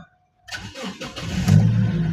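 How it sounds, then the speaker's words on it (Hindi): A Toyota Hiace Grand Cabin high-roof van engine cranks and fires after a brief silence, then settles into a steady idle, close and clear with no talk. "स्टार्ट कर दिया मैंने गाड़ी"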